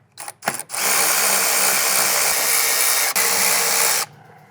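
Power tool, likely an impact driver, loosening the three E12 Torx bolts that hold the top of the strut on a 2020+ Toyota Supra MKV A90. Two or three short bursts, then one sustained loud whirr of about three seconds with a brief dip before it stops.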